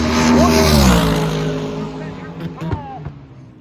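Loud engine roar of a Toyota Starlet and a Chevrolet El Camino launching side by side in a drag race, revving and fading as they pull away, with an announcer talking over the noise.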